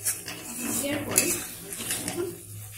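A pot of Bengali chicken rezala, a white chicken curry with milk, being stirred: a steady run of metal utensil scrapes and clinks against the pot, close and continuous, with faint sizzling underneath.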